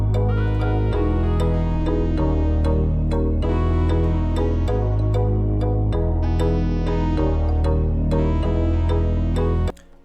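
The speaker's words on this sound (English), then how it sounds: "Next, we got a sub bass, because that's pretty popular in a lot of beats." A Unison Me sub bass synth in an Afrobeats beat plays deep, sustained bass notes that shift pitch every second or so under chords and sharp percussion hits, loud and steady before cutting off at the end.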